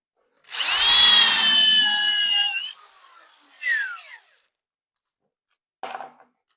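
A power drill whines loudly for about two seconds and winds down, followed by a shorter burst and a brief final whir, while building a concrete fingerboard park.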